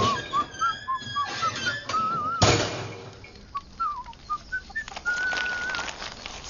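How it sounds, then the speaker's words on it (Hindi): A person whistles a wavering, melodic tune in short phrases, fairly close and clear, broken midway by a dull thump, with a faint background hum. "सीटी मारना बंद करो।"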